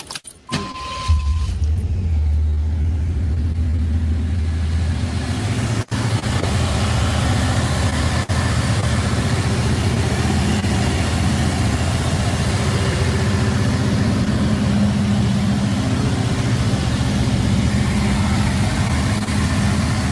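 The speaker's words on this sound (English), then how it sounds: "We'll just hear like some engine noise when they start it up and went down." A 1988 IROC-Z's engine turns over and catches at a muscle car show, then settles into a steady, loud rumbling idle that runs on continuously.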